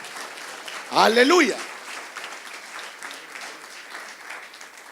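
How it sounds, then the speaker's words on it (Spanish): A church congregation applauds steadily in a large room, a soft wash of clapping that continues after a single voice calls out briefly over it. "Vamos, denle un aplauso a Cristo Jesús."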